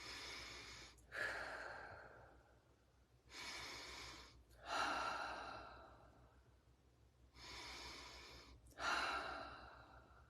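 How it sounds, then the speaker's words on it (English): Slow, deep breaths repeat three times, each a long airy inhale followed by a softer exhale, close and unhurried with no talking. "Stop, take a breath, listen to my breathing."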